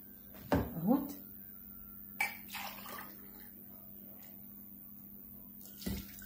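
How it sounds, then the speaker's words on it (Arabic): Water poured from a container into two cups while preparing a lemon drink, heard as a couple of short splashing pours separated by quiet stretches over a low steady hum. "دلوقتي بقى هناخد كوبايتين ميه اهوت"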